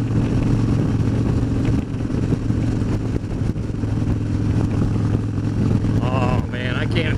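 A Harley motorcycle ridden on a bumpy road, its engine droning steadily and loud along with wind roar the whole time, with a short higher whine near the end.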